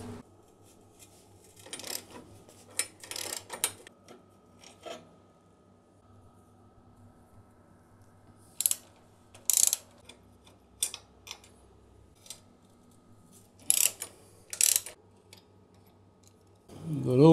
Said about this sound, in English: you will need to remove these two 12mm head bolts